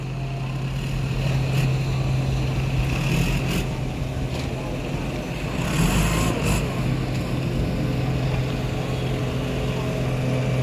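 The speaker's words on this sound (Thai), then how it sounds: "เรือหางยาว" A steady, droning long-tail boat engine runs throughout at moderate loudness, with a low hum and occasional brighter bursts of noise, along with outdoor background.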